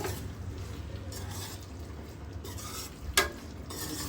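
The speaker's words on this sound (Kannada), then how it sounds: "ಒಂದ್ಸತಿ ಮಿಕ್ಸ್ ಮಾಡ್ಕೊಂಬಿಡೋಣ ನೀಟಾಗಿ" Drumstick masala gravy being stirred in a pan, a steady soft scraping and bubbling close by with one sharper clink of the spoon against the pan near the end.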